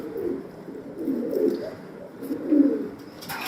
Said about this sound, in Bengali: এখন একটা কবুতর দেখাচ্ছি